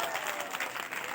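A crowd of listeners at a Ram Charit Manas discourse claps in a brief, dense burst of applause, close and steady with faint voices underneath.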